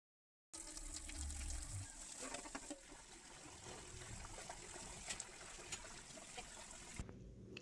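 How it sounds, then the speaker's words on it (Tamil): Water splashes and swishes in a bowl as raw chicken is rinsed by hand, a continuous close sloshing with occasional clinks. "சிக்கன் பார்த்திங்கன்னா ஒரு மூணு நாலு டைம் நல்லா தண்ணியில் போட்டு நல்லா க்ளீன் பண்ணி எடுத்து வச்சுக்கிறோம்"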